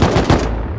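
Rapid close bursts of AK rifle fire from the Rust video game, a loud rattling string of shots cutting off abruptly after about half a second.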